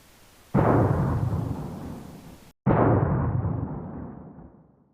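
Two heavy, booming car bomb blasts in quick succession, each with a sharp onset and a long rumbling decay, loud and close.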